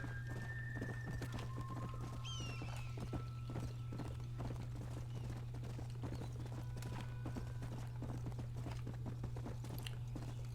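Horse hooves clip-clopping in Red Dead Redemption, a steady rhythmic stream of close hoof strikes with a whinny early on, all over a low constant hum.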